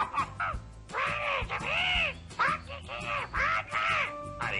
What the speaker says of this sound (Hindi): अरे ये तो मीना का तोता है